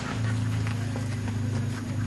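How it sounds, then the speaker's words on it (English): Horses on a cattle drive walk along as hooves clip-clop in a quick, steady patter, heard near over a constant low engine-like hum. "here comes Jake walking up with a couple of our horses"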